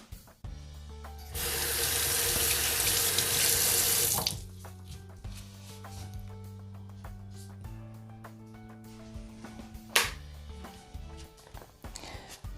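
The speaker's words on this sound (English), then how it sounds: "Just to rinse out my pan, just put a little bit of water." Water from a sink tap runs steadily into a pan for a few seconds to rinse it. A loud continuous splashing rush then stops, followed by quieter clinks and kitchen handling sounds.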